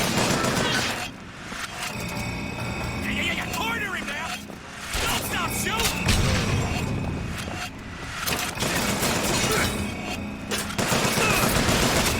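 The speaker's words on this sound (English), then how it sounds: "That's what happens when you all stand together and I have a volley gun." Bursts of volley gun fire from the Bioshock Infinite video game crack repeatedly over a busy, clattering battle mix, with talk running over the shots throughout.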